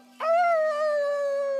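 A person's voice imitates a wolf howl during The Last of Us Part 2, one sustained, loud, close tonal wail rising sharply and then holding steady, with a faint constant hum underneath.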